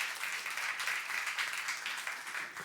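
A church youth congregation at a sermon bursts into applause, a thick, even clatter of many hands sustained at moderate volume through the short moment, with no speech over it.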